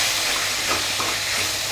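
Finely chopped tomatoes frying in a pan over low flame for chicken gravy, a dense, steady sizzling hiss heard close and alone throughout the short stretch.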